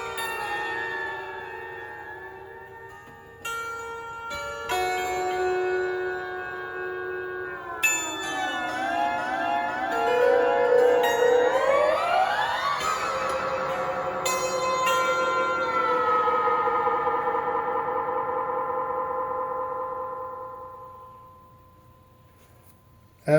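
An out-of-tune dulcimer run through a Death by Audio Dream Station pedal gives wavering, siren-like tones that bend and swell, rise to a dense, warbling peak, then slowly fade out.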